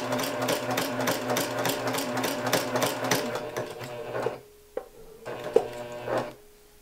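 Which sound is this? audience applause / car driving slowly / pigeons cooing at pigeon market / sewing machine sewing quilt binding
sewing machine sewing quilt binding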